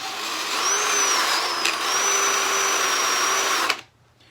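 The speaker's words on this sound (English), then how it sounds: "just polish it finally and use a different polishing brush for that" A power polishing machine spins a fine polishing brush loaded with polishing compound against a tarnished Honda CL 350 fork leg, giving a steady, close, loud whine with a slight dip partway through, then cutting off abruptly near the end.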